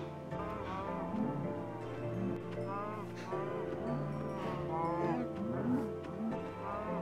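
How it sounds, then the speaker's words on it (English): Cows mooing in a survival video game, several drawn-out moos overlapping one after another at close range, with a steady background hum and no talking. "I think it's time we slaughter these cows."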